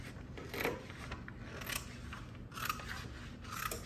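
Scissors cut and trim a direct-to-film transfer sheet, making repeated crisp snipping and slicing strokes at a steady pace, close up, with a soft room hiss and no talking.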